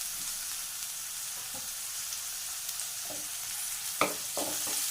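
Dried red chillies, curry leaves and green chillies fry in a pan with a steady, soft sizzling hiss. A few faint stirring knocks sound near the end, fairly quiet overall.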